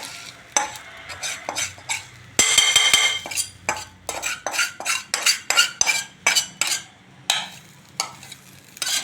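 A utensil scrapes and clinks against a pan in a quick, steady rhythm of repeated strokes, with fried onions sizzling underneath.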